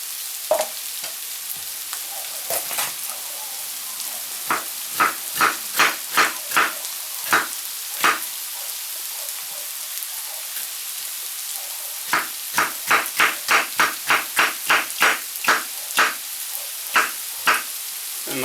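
Carrots and onions fry in oil in a pan with a soft, steady sizzle, broken by clusters of sharp, close clicks and taps from utensils at irregular intervals.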